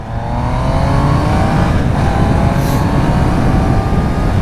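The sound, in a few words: motorcycle engine accelerating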